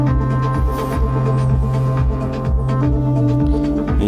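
A buzzy synthesizer lead sustains over a pulsing, throbbing electronic beat in a live hardware techno set, loud and repetitive, with no voices.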